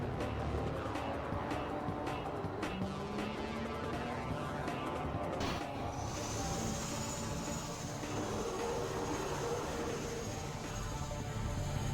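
A car driving in Half-Life 2, with a continuous engine drone and road rumble that shifts pitch over several seconds, then a rising higher whine, steady and fairly loud with no pauses.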